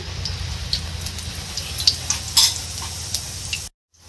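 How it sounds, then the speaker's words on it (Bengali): Whole cumin seeds sizzle in hot oil at the start of a coconut ghugni, a steady close crackle with scattered sharp pops. No talk, and the sound cuts off abruptly near the end. "এখানে আমি গোটা জিরে দিয়ে দেবো তেলের মধ্যে"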